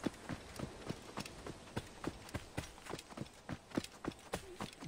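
Rhythmic clip-clop of horse hooves trotting at a steady pace in the video game Assassin's Creed Origins, close and moderately loud, with no talking.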